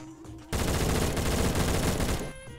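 A burst of rapid, dense gunfire from a pistol in a video game, loud and continuous for about two seconds, with quieter game sounds before and after.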